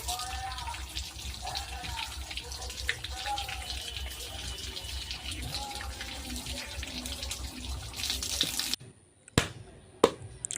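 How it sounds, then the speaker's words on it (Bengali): Palm seeds coated in mud are washed one by one under running water, a continuous close splash and trickle with scattered drips that abruptly cuts out near the end, leaving a few isolated knocks. "আস্তে আস্তে ধুয়ে নিচ্ছিলাম সবগুলা।"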